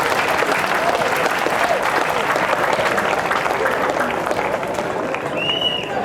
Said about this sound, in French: Applaudissez-moi quand même.